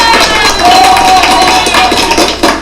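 A canned applause sound effect, clapping and crowd cheering triggered by a mis-clicked button during an online exam-prep class, plays continuously and loudly for a few seconds with no talking over it.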